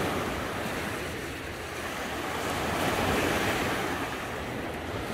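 Waves wash steadily onto a lake shoreline at Wheatley Provincial Park in October, a continuous loud surf roar with wind buffeting the microphone and no voices.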